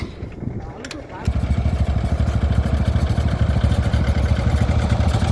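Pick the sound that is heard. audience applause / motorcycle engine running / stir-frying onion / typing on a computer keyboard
motorcycle engine running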